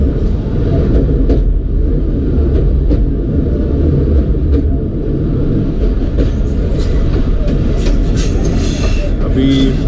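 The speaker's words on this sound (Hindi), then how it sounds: "बलेली ब्रिज से पास हुई है चमन पैसेंजर ट्रेन" A Chaman passenger train of Pakistan Railways rolls across the Baleli bridge near Quetta, a loud, steady low rumble of wheels and carriages filling the whole stretch, with faint higher clatter toward the end.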